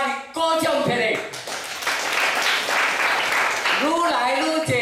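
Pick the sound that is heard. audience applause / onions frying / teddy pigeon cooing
audience applause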